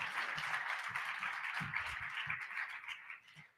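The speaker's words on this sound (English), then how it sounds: "Give them a round of applause." A conference audience applauds speakers at a talk on privacy coins, dense, even clapping from many hands that carries steadily for a few seconds before tapering off near the end, with no talk over it.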